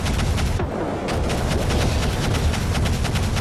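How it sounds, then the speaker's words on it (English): A dense, continuous barrage of missile impacts and booming gunfire fills a battle over a base in a video game, loud and unbroken. "Oh, damn missiles!"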